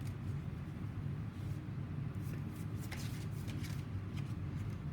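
Tarot cards shuffled by hand for a reading, giving a soft, steady riffling and rustling that stays quiet and close with no voices over it.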